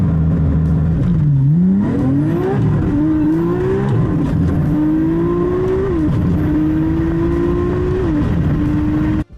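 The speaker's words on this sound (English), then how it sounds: "What you just saw there was a supercar-style launch control being used in a DCT-equipped Skyline." A Nissan Skyline with an RB engine and a dual-clutch transmission swap does a launch-control start, the loud, close engine holding a steady rev before climbing through several quick upshifts, each marked by a brief dip and a fresh rise.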